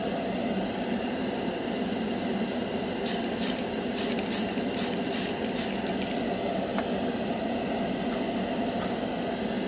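A Tamiya spray can of paint releases a few short hissing bursts in quick succession midway through, set against a steady background hiss, with no talking.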